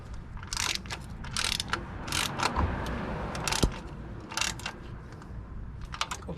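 Oil filter being hand-tightened onto a 2014 Mazda 2 during an oil change: a run of dry scraping, ratcheting rubs and small mechanical clicks in bursts, close and moderately loud, with one sharper tap midway.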